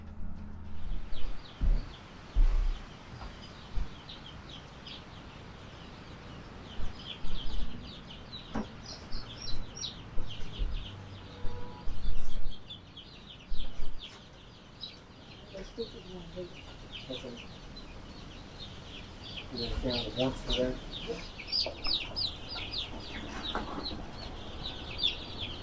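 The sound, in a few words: Freedom Ranger and Kosher King chicks in brooder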